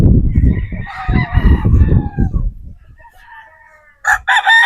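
A rooster, a 3/4 Sweater, 1/4 Boston broodstag with a straight comb, crows loud and close after someone speaks, the crow bursting in near the end at full volume.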